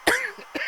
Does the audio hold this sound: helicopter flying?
no